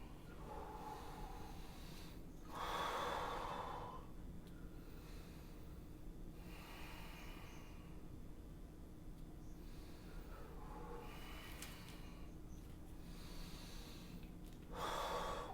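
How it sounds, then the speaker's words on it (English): Deep yoga breathing during a session, slow inhales and exhales in several long breaths spaced a few seconds apart, close and fairly soft with no talking. "One more breathing, inhale really deep,"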